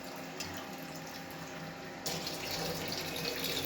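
Water runs steadily from a tap into a cooking pot for vegetable oats khichdi, a continuous close splashing stream that grows louder partway through, with no talking.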